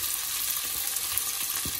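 Potatoes sizzle in hot oil with a steady crackling hiss, close up and fairly quiet, with faint stirring bumps underneath.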